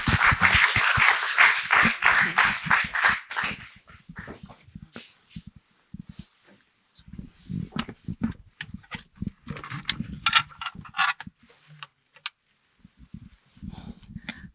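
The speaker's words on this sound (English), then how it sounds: "Ifeoma, big round of applause" A conference audience applauds as a speaker comes to the stage: a few seconds of clapping that thins quickly into scattered claps, shuffling and faint movement noise.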